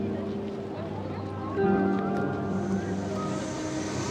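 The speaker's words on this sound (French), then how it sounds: "le bruit du moteur est quand même assez conséquent" Steady droning engine of a Stampe biplane on a warbird discovery flight, a constant loud hum with a slight swell midway, running under people talking throughout.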